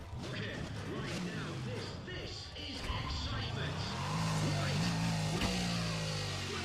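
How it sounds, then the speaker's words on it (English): A Shelby GT500 engine revs in the racing game Need for Speed: Pro Street, rising in pitch as it accelerates, with crashes and tire noise mixed in and someone talking over it. "I'm not the biggest fan of the engine sound itself"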